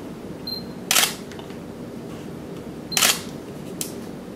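Canon 50mm autofocus lens motor focusing, either the f/1.8 or f/1.4 model: two short, fairly loud whirring bursts about two seconds apart, then a briefer, fainter third, over a quiet room background.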